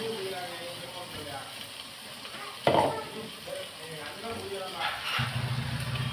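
Ground tomato paste fries in hot oil for pepper kulambu, with a soft continuous sizzle, a sharp scrape of the spoon against the pan midway and occasional stirring clatter, while someone talks throughout.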